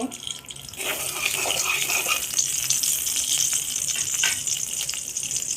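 Mustard oil is poured into a pan during a spicy crab recipe. After a short quiet start, a loud, steady gushing pour follows and lasts to the end, with no speech.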